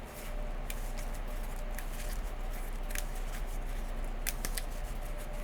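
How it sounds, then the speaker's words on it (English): A deck of about 25 Ashes Reborn game cards is shuffled by hand on a tabletop. Quick, crisp riffles and slides come in uneven bursts over a faint low hum, close and fairly quiet. "I'll go ahead and Also shuffle up my remaining 25 cards"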